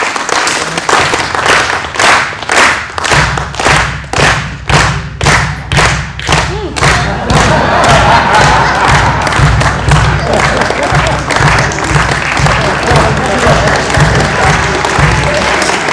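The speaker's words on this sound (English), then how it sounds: "I'd like you to keep clapping until something wonderful happens" A live audience clapping continuously after a panel: first loud, rhythmic clapping in unison with heavy thuds, then breaking into a dense, sustained roar of applause that carries on to the end.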